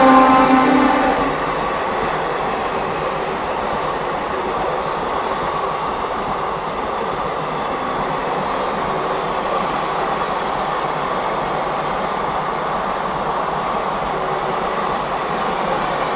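The Godavari Express rolls through Ghatkesar station at high speed, a loud continuous rumble of wheels and wagons with a brief louder onset, steady for the whole stretch and without voices.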